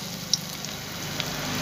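Pakoras of dimi greens frying in hot oil, a soft steady sizzle at low level with a couple of faint pops, no voices.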